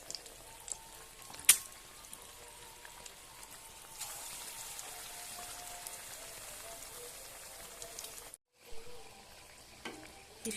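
Egg chops frying in hot oil, a steady close crackling sizzle with dense spattering pops, a sharp clink early on and a brief cut in the sound near the end.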